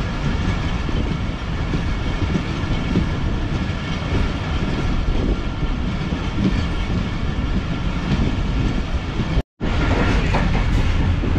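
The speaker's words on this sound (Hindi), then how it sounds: "शायद ये काफ़ी अच्छा कर्व ले रही है ट्रेन" Inside the Rehman Baba Express on the Karachi to Bahawalpur run, the passenger train rolls steadily round a curve with a loud, continuous rumble and rail clatter, broken by a brief dropout near the end.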